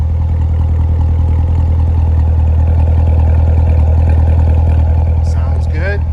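A 2015 Chevrolet Corvette Stingray Coupe Z51 2LT gives a steady, deep exhaust rumble at idle, loud and unbroken from start to finish, with faint higher chirps near the end.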